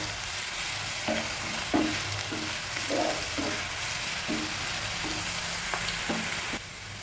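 Sliced onions fry in hot oil for fish biryani, giving a steady sizzle throughout, broken by about ten soft scraping strokes as they are stirred. Nobody talks.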